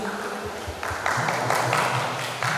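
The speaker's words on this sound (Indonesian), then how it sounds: "mari kita berikan aplaus yang meriah" Applause from an audience at a high school graduation ceremony, a dense patter of clapping that swells and stays steady over a faint background murmur.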